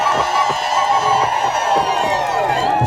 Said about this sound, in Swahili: Ongeza makofi na vigelegele.